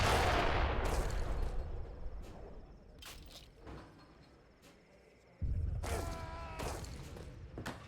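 Great bombards firing in an Age of Empires 3 match, several heavy booming shots with sharp attacks and short decays, spaced irregularly over a quieter battle background, the last blasts loudest.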